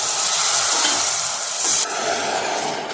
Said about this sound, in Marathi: थोडं थोडं दूध टाकायचं